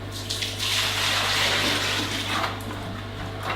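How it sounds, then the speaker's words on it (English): Cold tap water runs steadily into an electric kettle for a few seconds, a close, continuous splashing gush that swells briefly in the middle before settling. "A little bit of cold water back into there."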